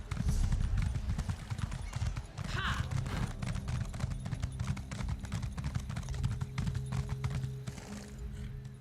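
Horse hooves clip-clop steadily in The Elder Scrolls Online, a dense, continuous patter of game steps over low ambient music and effects, fairly loud throughout.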